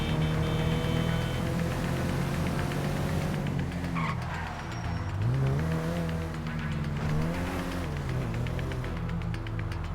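Car driving in Grand Theft Auto V, with a steady engine drone, rising and falling revs, and tire skids, loud and continuous with no talking.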